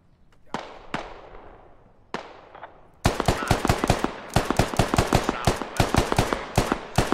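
SquadOps game gunfire: a few sharp isolated shots ring out, then a sustained fast burst of automatic fire crackles steadily, close and loud.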